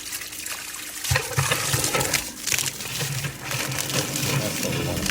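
Water being sucked out of a swimming pool's plumbing lines during pool closing, a steady loud rushing, gurgling churn with irregular surges that runs throughout.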